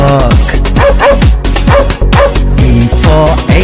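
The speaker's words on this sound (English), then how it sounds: "D for dog" Loud, repeated dog barks and yips, cartoon-like and pitched over a children's alphabet song, with bright music filling the gaps between them.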